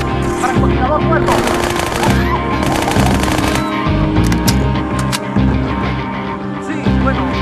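Rapid automatic gunfire in Halo 2 comes in loud, close bursts with short pauses between them, layered over game music and effects, with some voices in the mix.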